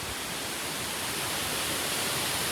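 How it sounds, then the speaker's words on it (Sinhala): Paradise Ella waterfall on the Dehenakanda Mukkuwatta route to Sri Pada, a steady broadband roar of falling water heard from close by, loud and unbroken, with no other sounds over it. "මම ඉන්නේ පැරඩයිස් ඇල්ල පාමුල."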